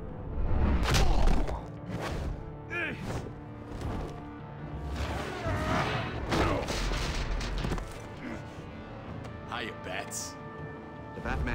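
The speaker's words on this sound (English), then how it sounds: "Shoot the hostage!" Gunfire in the video game Batman: The Enemy Within, several sharp bursts scattered across a busy scene with crashes, music and voices talking over it.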